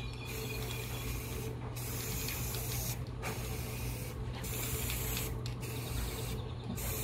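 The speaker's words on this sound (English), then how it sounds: "And now I'm just gonna put spray paint in there." Spray paint hisses from an aerosol can onto water for hydro dipping a phone case, in several close, continuous bursts separated by brief pauses.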